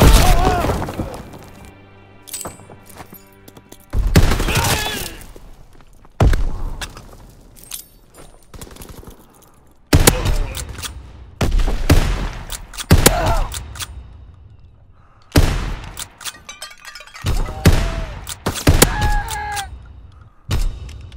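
Gunfire in a hardcore free-for-all match of Call of Duty WW2 comes as sharp, separate bursts and shots with pauses between them, mixed with brief game voice announcements.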